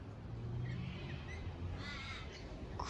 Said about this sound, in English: Oh, there's a crow up there.